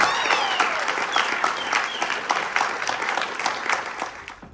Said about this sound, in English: Let's give my mom a round of applause.